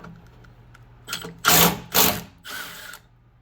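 A handheld power tool spins out T45 Torx bolts on a Jeep Wrangler 392, a short whir followed by three loud, close bursts with brief pauses between them.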